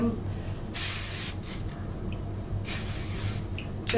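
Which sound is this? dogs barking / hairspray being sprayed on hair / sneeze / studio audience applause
hairspray being sprayed on hair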